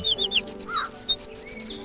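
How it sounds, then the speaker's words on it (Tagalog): Young crows calling in a rapid series of high, chirpy cries, close by and overlapping, with no pauses in between. "Kaw! Kaw! Ang iyak ng mga batang uwak na ito"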